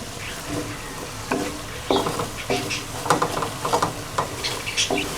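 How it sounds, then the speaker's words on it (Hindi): Ground whole-spice masala roasting in a pan for chicken haleem, a steady sizzle broken by repeated scraping stirs at an uneven rhythm, close and fairly loud. "ये मसाला भुन गया है।"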